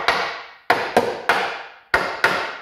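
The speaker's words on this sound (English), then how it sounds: "You can tell by the pitch of the hammer." Sheet metal for a Kei car body panel, restored with custom press dies, is struck with a hammer: six loud, close, ringing metallic blows in an uneven rhythm, each decaying quickly into silence.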